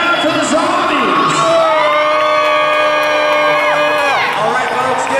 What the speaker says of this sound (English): There was like a low, unearthly roar crowd that came from the Zombie fans.